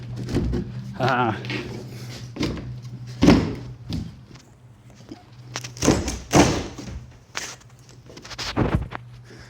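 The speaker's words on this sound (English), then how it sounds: "Oh, it's a two-part door." A two-part door in a newly viewed house is opened and closed, giving several loud wooden thunks and thuds spread through the clip, with footsteps and people talking between them.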